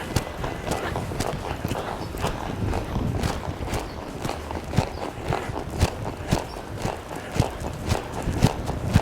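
A horse walks under a rider, with steady rhythmic hoof clip-clops sounding close and continuous over faint background noise, without talk.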